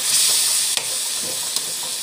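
Food being sautéed with salt in a pan, a steady close sizzle and hiss running throughout with a couple of brief stirring scrapes, no voices.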